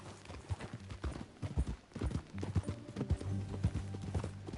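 A horse in Red Dead Redemption II trots steadily in a quick, rhythmic clip-clop beat on firm ground, close and clear, with no voices.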